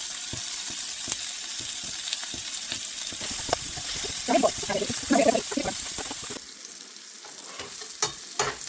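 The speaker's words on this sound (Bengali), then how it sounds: "পেঁয়াজ আর মরিচটা কিন্তু আমার ভাজা হয়ে গিয়েছে" Onions and chilies sizzle loudly in a pan, with stirring scrapes and clatter midway before the frying settles to a quieter hiss.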